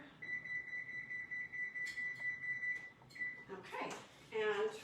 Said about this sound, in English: I'm going to hit my timer.